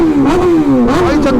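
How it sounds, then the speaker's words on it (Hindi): A superbike engine revs hard and close during a Sunday group ride, a loud rising and falling throttle blip with strong harmonic whine lasting about a second and a half. "लोग रेव के लिए बोल रहे हैं, कर देते हैं भाई रेव।"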